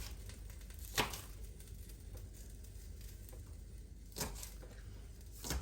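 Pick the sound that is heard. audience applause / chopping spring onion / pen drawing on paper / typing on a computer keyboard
chopping spring onion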